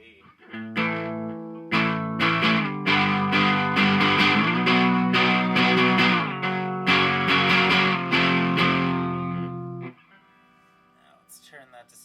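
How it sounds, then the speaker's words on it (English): Electric guitar played through an Earthquaker Devices Sunn o))) Life distortion pedal, with thick, saturated sustained chords struck in a rhythmic series of loud bursts, then a sudden cutoff near the end leaving faint noise. "Turn that distortion all the way up."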